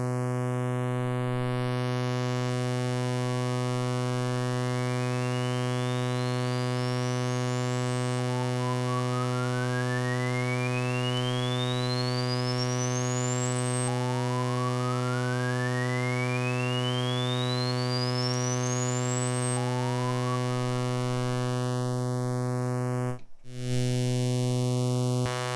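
AM1031 multipurpose filter module, a 2500-series synthesizer module, at full resonance: a sustained buzzy drone with a whistling resonant peak that sweeps upward again and again in repeating rising chirps, broken by one brief dropout near the end.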